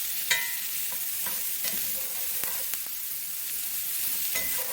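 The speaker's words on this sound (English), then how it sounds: "we're just going to scrape up all of that good stuff off that pan. We're going to sear our onions with it." Onions sear in a hot pan on the stove while a spatula stirs and scrapes the browned bits off the bottom, giving a steady sizzle broken by short scraping strokes.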